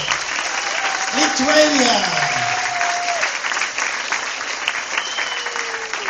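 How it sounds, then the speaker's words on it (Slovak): Audience applause at the Amber Prix Olympia bodybuilding event, a loud sustained crowd clapping for several seconds while an announcer speaks over it. "Ešte veľký potlesk, dámy a páni. Big applause."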